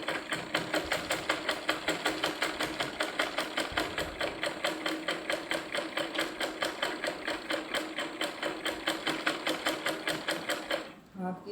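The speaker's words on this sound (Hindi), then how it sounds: "अब ये दूसरा पल्ला भी सिल लो।" A sewing machine stitches a baby frock panel in a fast, even run of mechanical clatter that stays loud and close for about eleven seconds, then slows and stops near the end.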